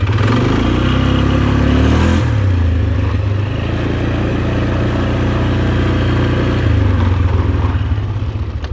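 A 1999 Polaris Sportsman 500 4x4 ATV engine runs loudly up close, holding a steady throbbing idle with a few shifts in pitch as the revs change, and no voices.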